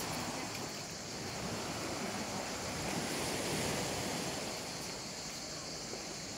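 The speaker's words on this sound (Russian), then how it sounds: "Море чистое, теплое." Sea surf washes steadily onto a Crimean beach by a sanatorium, a broad continuous roar of breaking waves swelling slightly mid-way, with wind buffeting the microphone.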